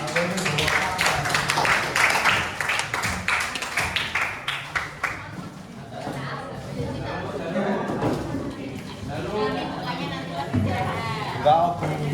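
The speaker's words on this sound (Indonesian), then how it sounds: "Tepuk tangan, tepuk tangan." Classroom students clapping their hands together in rhythmic bursts, a run of quick sharp claps up close, then fading into chatter and talking voices.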